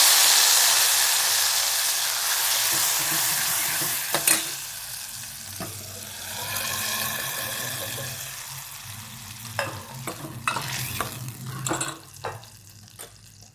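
Chakwat (bathua) greens fry in oil with asafoetida in a pan, sizzling steadily and loudly while a spoon stirs and scrapes, with clinks of the utensil against the pan.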